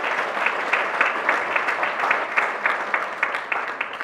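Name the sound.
audience applause at awards celebration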